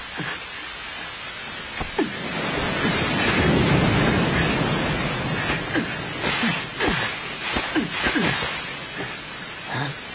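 Steady heavy rain hissing loudly, with a swelling rumble like distant thunder and scattered splashing, knocking sounds throughout.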